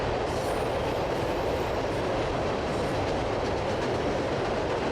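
A fast train thunders past on the Water Level Route rail line in Ohio near the Vermilion River, a loud, steady, close roar of wheels and rushing cars filling the whole stretch with no pause.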